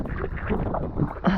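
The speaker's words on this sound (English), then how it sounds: "It's super windy down the valleys." Strong wind gusting down a valley onto open water along the Lofoten coast in Norway, a steady low buffeting rush over the microphone, close and loud, with no talking.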